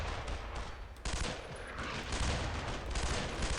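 Video game gunfire in Brothers in Arms: Road to Hill 30 as a fire team shoots at a mortar team, a dense fusillade of overlapping rifle and machine-gun bursts, fairly distant and continuous.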